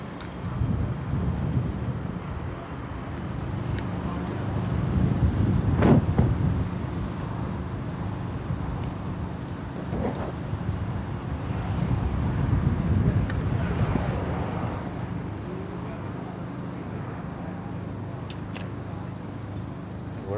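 The airplane carrying the Princess of Wales taxis along the runway, a steady distant engine roar and whine mixed with wind buffeting the microphone, swelling slightly twice without any close talk.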